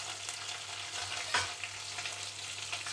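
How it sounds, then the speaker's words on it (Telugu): Onions with dried red chillies and curry leaves frying for a village-style gongura dish, giving a quiet, even sizzle throughout and one brief stir or scrape near the middle, with nobody speaking. "వేసేసుకొని ఉల్లిపాయలు ఫ్రై అయ్యే వరకు ఫ్రై చేసుకోవాలి."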